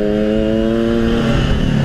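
A motorcycle engine running close by, a steady loud droning hum with a slight rise in pitch toward the end.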